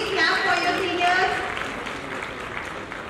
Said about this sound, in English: Students, please clap for your seniors.